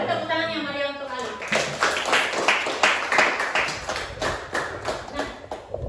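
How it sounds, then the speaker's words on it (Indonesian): Classroom applause for a student, a burst of clapping from a group of pupils lasting several seconds, close and fairly loud, with some voices mixed in. "Beri tepuk tangan yang meriah untuk Alif."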